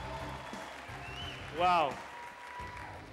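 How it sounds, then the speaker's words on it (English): A studio audience at Tusker Project Fame Season 5, a televised talent show, applauds the judges in a steady wash of clapping that swells briefly. A voice speaks over it. "Big round of applause."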